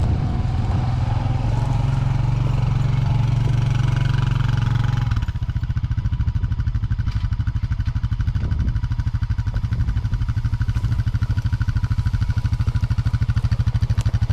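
A Honda motorcycle labours up a trail slope, its engine loud and close with a heavy, throbbing low rumble that eases into a steady, pulsing chug as it climbs, with occasional clatter.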